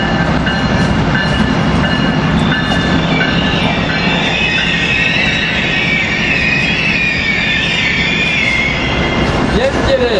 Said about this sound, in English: Train 97, the Silver Meteor coming in.